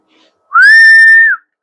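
A single sustained whistle, loud and close, holding one steady pitch for just under a second before sliding down at the end, with a faint voice murmur just before it.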